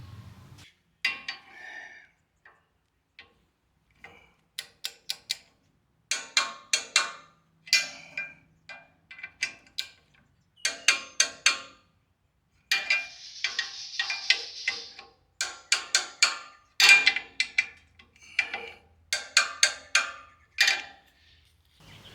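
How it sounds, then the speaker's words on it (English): Torque wrench tightening bolts on a rear bumper and hitch kit for a John Deere Z355E zero-turn mower, giving repeated quick ratcheting clicks in short bursts with pauses, close and crisp, no talk. "I've got my torque wrench here, and I'm just going to torque the bolts up to make sure they're tight"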